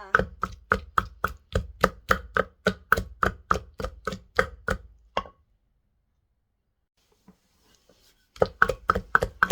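Rhythmic pounding of chili, garlic and shallots in a mortar, about sixteen close, even strikes, a pause of near silence, then the steady pounding resumes.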